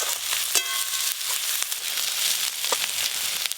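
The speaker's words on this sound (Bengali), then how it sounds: "প্রথমে পেঁয়াজ কুচি দেব, পেঁয়াজ বাটা পরে দেব" Chopped onions fry in hot oil with whole spices, giving a loud, continuous sizzle with crackles and a few scraping stirs or clinks; nobody talks.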